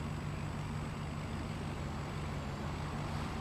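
A truck engine laboring steadily while pushing another vehicle on a farm, a loud continuous rumble with a constant high whine above it and no voices.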